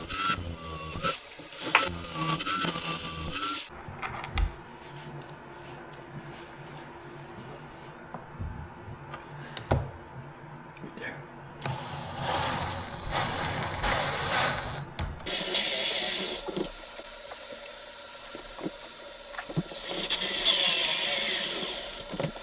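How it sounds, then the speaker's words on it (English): Rough grinding and rasping bursts come and go as a bit bores through wood for a double bed frame, using a drill guide, with mechanical clicks and scraping between the louder passes. "we'll just use this as our drill guide to get a straight drill hole"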